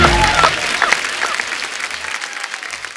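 Studio audience at a comedy show bursts into loud applause, a dense wash of clapping up close that slowly thins out over a few seconds.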